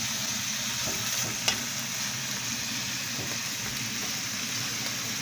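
Onions sizzle and fry with beef steak in a pan for a home-style bistec encebollado, a steady, close, continuous crackle with one brief louder clack of a utensil partway through.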